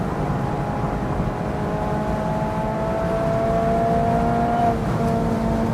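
A Mazda Miata ND3 is floored at full throttle, its engine droning steadily and loudly from inside the cabin. The tone rises slowly over several seconds, then dips and changes pitch near the end, with no talk over it.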